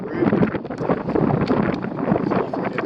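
On a windy day atop a house roof, gusts of wind buffet and rumble loudly and unevenly close by, with no clear talking.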